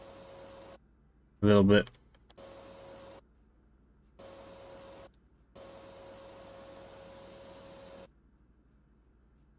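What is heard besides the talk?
vacuum cleaner in Gaming Cafe Simulator video game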